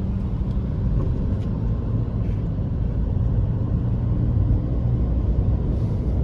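A car being driven on a good highway between Salem and Coimbatore, heard from inside as a loud, steady low road-and-engine rumble with no breaks and no talking.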